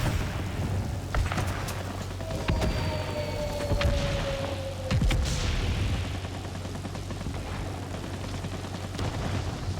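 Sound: bomb dropped and exploding, from the video game World of Warplanes

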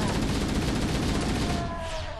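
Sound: gunfire from video game Halo: Combat Evolved

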